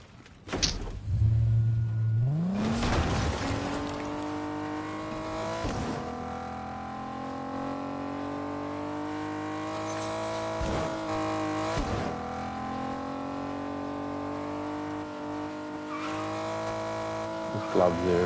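A car engine in Fortnite revs up sharply and then holds a steady, droning pitch for a long stretch, with a few quick shifts and clicks along the way.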